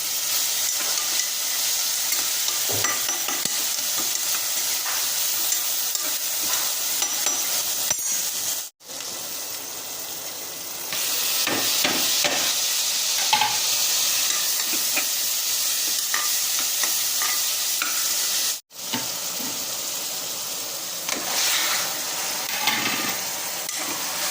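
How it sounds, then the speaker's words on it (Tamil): Steady sizzling and frying of masala paste being sautéed in a pan for chicken gravy, with occasional stirring scrapes and two brief drops to near silence. "நல்லா வதக்கி விட்டுடலாம்"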